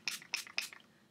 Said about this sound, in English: And I just spritz that on my face.